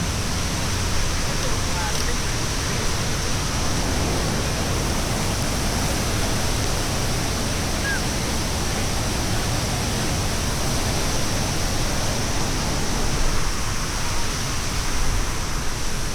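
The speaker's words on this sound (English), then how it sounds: "Look at that water churning down there." Churning water rushes down into a pool at Lake Placid, a loud, steady broadband roar that fills the whole stretch without a break, close by and continuous like a waterfall.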